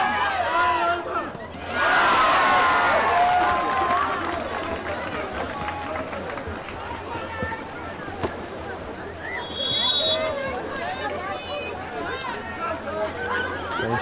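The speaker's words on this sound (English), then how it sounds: "Crowd is really getting behind everybody here." A crowd at the Reef Cup 2022 women's polo final swells into cheering twice, a broad roar that rises and fades under steady commentary.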